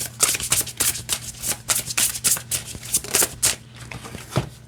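Deck of oracle cards being riffled and shuffled by hand, a quick series of crisp flutters and card slaps, close and clear, with no talk.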